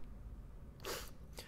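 A sneeze in the Fallout 4 video game, a short sharp burst followed moments later by a fainter second one, heard alone without talk.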